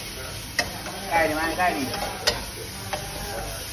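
Wild boar stir-fried with curry paste in hot oil sizzles and scrapes in a wok, with stirring strokes and sharp clatters of the utensil against the pan, while people talk nearby.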